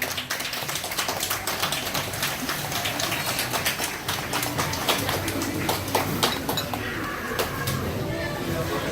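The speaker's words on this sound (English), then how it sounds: "You can go ahead and give them a round of applause" Crowd applause fills a dolphin show stadium at Sea World, dense steady clapping throughout at moderate loudness, with some voices mixed in.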